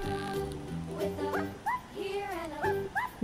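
A dog yips, whimpers and gives short bow-wow barks, close by and fairly soft, with pitched vocal sounds mixed in over a brief stretch.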